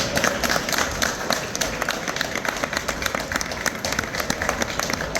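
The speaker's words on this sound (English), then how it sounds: "Can we get one final round of applause for these fantastic panelists?" A conference audience at the close of a liqueurs-market panel gives a final round of applause, brisk, dense clapping from a room full of people that carries on steadily without a break.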